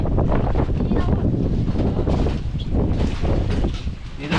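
Wind gusting hard outdoors near the sea, a loud, rough roar buffeting the microphone for the whole stretch with little letup.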